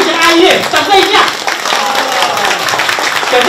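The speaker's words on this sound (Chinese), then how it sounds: "那我也谢谢阿月，掌声一下" An audience at a church Christmas concert in Tainan claps, with dense, close applause under a loud speaking voice that continues over it, the clapping fading a little then holding steady for a few seconds.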